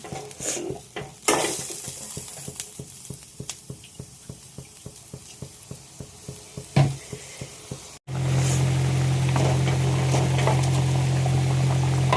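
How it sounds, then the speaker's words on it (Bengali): Potatoes frying with spice paste in a pan, stirred with repeated scraping clicks over a steady sizzle; after a brief cut, a louder continuous hiss and sizzle takes over. "এবারে আলুগুলো দিয়ে মশলাটা একেবারে কষিয়ে নিলাম ভালো করে"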